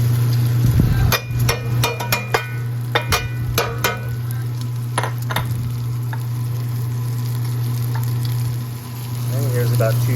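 A pepper and onion mix hitting a hot pot for brisket beans, with a steady loud sizzle and a burst of clanks and scraping stirs early on, then continuous frying hiss.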